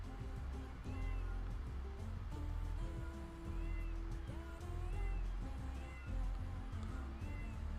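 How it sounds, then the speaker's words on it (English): Cat meows from a video game sound effect repeat every second or so, fairly quiet over a steady low game soundscape, with faint talking in the background. "I'm really glad that the cat sound effects aren't that loud"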